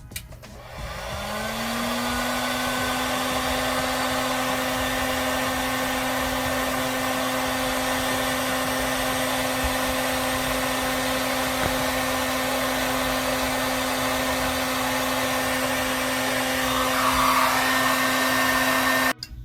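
A heat gun runs steadily, shrinking heat-shrink tubing over 12-volt LED wire connections on a boat or RV. The blower drones loud and close, holds a constant pitch for nearly twenty seconds, and cuts off at the end with no talk.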